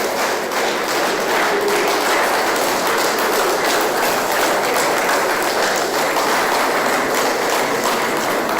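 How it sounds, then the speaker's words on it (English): An audience at an induction ceremony gives a full, steady round of applause that holds at an even level throughout, with no talking over it. "Sounding round of applause for Professor."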